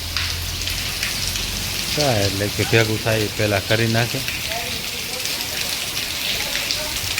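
Steady rain falls in a village setting, a dense constant hiss that lasts the whole clip, with a person speaking over it for a couple of seconds in the middle.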